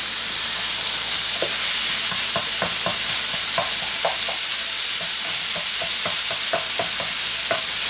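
Bob Evans pork sausage browns in a frying pan under a loud, dense, continuous sizzle, with intermittent crackles and pops from spitting fat, close and without any talking.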